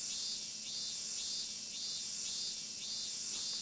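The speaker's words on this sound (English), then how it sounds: "We can listen to the relaxing sound of the cicadas." Steady, relaxing cicada chorus in the video game Disaster Report, a dense high buzzing drone that pulses gently in waves, continuous and fairly close, with no voices over it.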